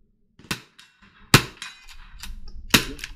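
Henry Classic lever action .22 rifle fired at an outdoor shooting range: three sharp, crisp cracks spaced unevenly over about three seconds, each with a short tail, plus faint clicks and handling noise in between.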